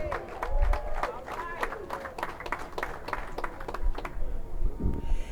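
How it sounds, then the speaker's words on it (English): Audience at a Cook County press conference claps and cheers in a steady, dense wash of applause, with voices mixed in over the crowd noise. "Yeah, start clapping now."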